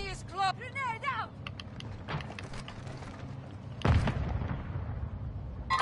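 A grenade explodes in the shooter game Crow 3.1: a sudden, heavy blast about two-thirds of the way through, trailing into a low rumble, preceded by electronic chirps, mechanical clicks and game voice chatter.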